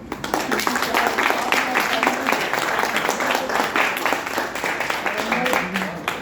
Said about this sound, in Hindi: एक बार पहले से जोर से आप लोग ताली बजा दो